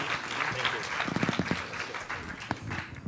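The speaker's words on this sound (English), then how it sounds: "Can we get one more round of applause for them?" An audience at a panel discussion gives a round of applause, a moderate patter of clapping heard at a distance, with people talking over it.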